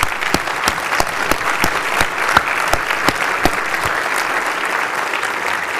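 An audience applauds PhRMA staff at the PhRMA14 conference address, a steady round of clapping that holds at full strength for about six seconds with no voice.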